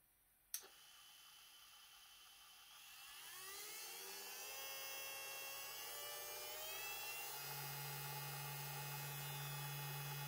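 A small mini drill press motor starts with a click, then winds up into a rising whine that settles into a steady high-pitched hum at top speed, close and alone.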